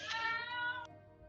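A house cat meows once, a clear drawn-out cry close by in a quiet room, ending abruptly after about a second.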